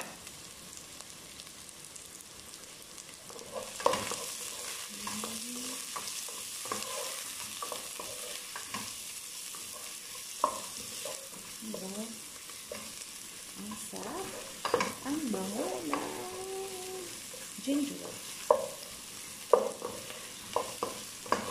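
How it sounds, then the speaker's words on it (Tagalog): Garlic and ginger sizzle and fry together in a home cooking pan, with a spoon stirring and scraping in irregular close clinks over the steady sizzle. "Bawang at saka yung luy ay sabay na po natin."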